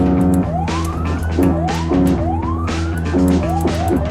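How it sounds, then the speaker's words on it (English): A loud sheriff's patrol car siren wails in repeated rising sweeps, close by, with the rumble of the vehicle underneath. "Running their lights and sirens."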